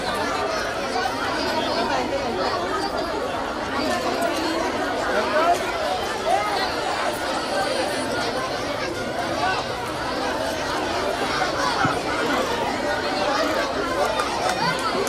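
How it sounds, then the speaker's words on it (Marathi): Crowd of students chattering noisily in a school corridor during an annual function, a dense, continuous hubbub of many overlapping voices at moderate distance, steady for the whole stretch. "वरती कॉरिडॉर मध्ये जे विद्यार्थी उभे आहेत खूप गोंधळ चालू आहे"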